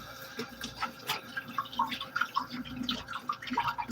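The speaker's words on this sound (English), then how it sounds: "I'm gonna wash my hands quickly." Hands being washed under a running kitchen tap, with a soft continuous stream broken by close drips, splashes and light patters of water that sound fairly quiet.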